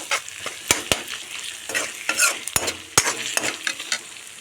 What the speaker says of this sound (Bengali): তারপর দিয়ে দেব আদা বাটা, তারপর দিয়ে দেব রসুন বাটা, দিয়ে নাড়তে থাকবো